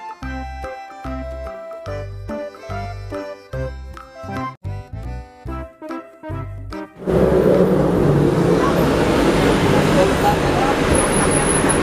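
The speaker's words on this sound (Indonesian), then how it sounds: "Truk box." A box truck's steady engine and road noise rises suddenly after a musical passage, then continues as a dense, loud traffic roar to the end.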